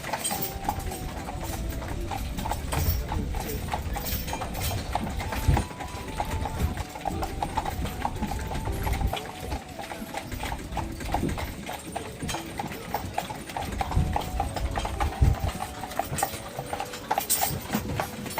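Horse hooves clip-clop steadily on a hard surface near Neuschwanstein Castle in Germany, a continuous rhythmic clatter close by over a busy outdoor background.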